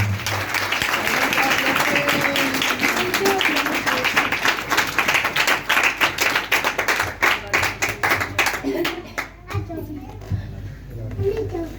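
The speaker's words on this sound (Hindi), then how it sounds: "यीशु मसीह के लिए तालियां बजाएं।" A congregation at a Christmas gathering claps for Jesus Christ, a long burst of loud, dense clapping that thins into separate, fading claps toward the end, with children's voices mixed in.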